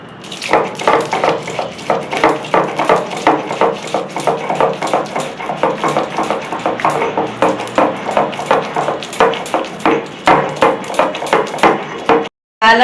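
Green chilies are ground into soaked lentil paste on a stone grinder for Bengali fritters, a steady rapid rhythm of scraping, pounding strokes, close and fairly loud, continuing almost without pause.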